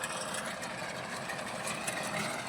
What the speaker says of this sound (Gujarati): જો ટ્રેક્ટર હાલે